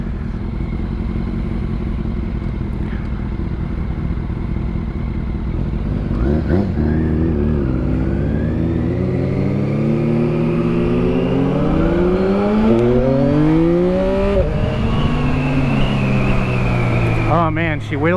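A 2022 Yamaha MT-09 motorcycle revs hard during a wheelie, its engine close and loud with pitch climbing and dropping through repeated throttle sweeps, and a rider's voice briefly audible.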